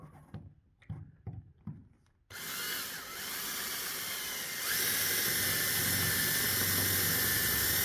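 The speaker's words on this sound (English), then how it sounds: "We've drilled a hole right into the area that we want to protect" A few quiet taps, then a power drill starts up loud and continuous, whining steadily as it bores through a rusty trailer door's metal channel for several seconds.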